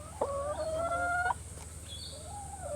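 A chicken foraging around sawtooth coriander in a garden gives one clear, drawn-out call, then a softer trailing cluck, heard up close against quiet outdoor background.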